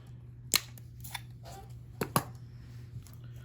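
Copper wire snipped with cutters while making jewelry: a few faint, sharp clicks scattered over a quiet background hum, with one soft snip followed by two more close together.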